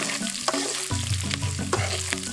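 White onions frying in oil in a village-style kitchen, with a steady sizzle and repeated stirring strokes and scrapes across the pan, close and continuous with no talk.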